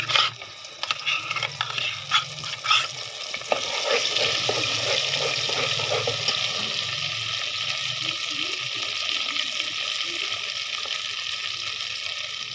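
A ground nut and onion paste fries in hot oil for a Bangladeshi wedding-style chicken pulao. A few sharp clatters come first, then a steady, hissing sizzle continues on its own.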